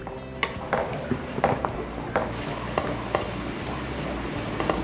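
Steady scraping and tapping of a utensil against a pan, stirring sweet and sour sauce until it thickens and boils, in an irregular rhythm over a low background hum.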